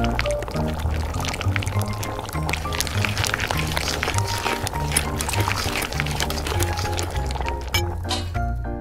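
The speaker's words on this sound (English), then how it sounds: "Pour the fruit jelly into the straws and let them cool." Fruit jelly made from boiled fruit jam, milk, sugar and gelatin being poured into straws, a steady liquid stream with occasional clinks, under loud backing music.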